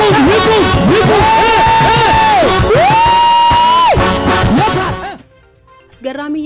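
A church congregation in Addis Ababa ululating together, loud high trilling waves that rise and fall in long sustained bursts, fading out near the end before shouting starts again.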